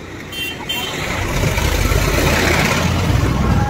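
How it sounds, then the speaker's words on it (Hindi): A motor vehicle passes along a road, its broadband engine and tyre roar swelling after the first second and staying loud and steady until the end. "थोड़ा गाड़ी वाड़ी आ रहा है"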